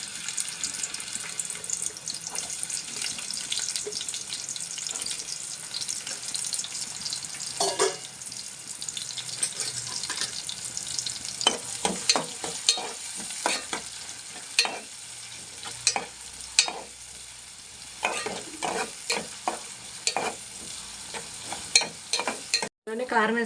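Green chilies fry in hot oil for a brinjal and raw banana curry, with a steady hiss of sizzling and, later, a quick run of sharp stirring clatters close by.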